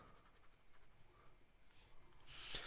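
A medium-nib fountain pen scratches out horizontal strokes on paper, a faint, continuous close-up scratching that grows louder and sharper toward the end.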